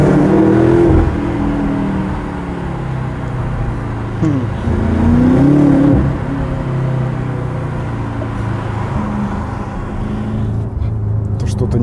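A BMW M6 Competition engine revs while driving on the road, a loud steady roar that rises and falls in pitch in a couple of swells, heard from inside the cabin.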